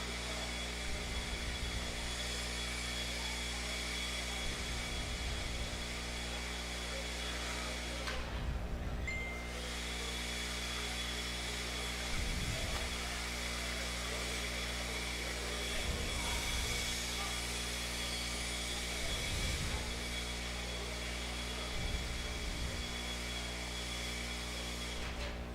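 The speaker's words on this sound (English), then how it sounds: "He marshaled over here, so he grabbed the blowers." Leaf blowers clearing dirt from an RC off-road race track, a steady loud motor whine running throughout with brief dips and surges, constant and close.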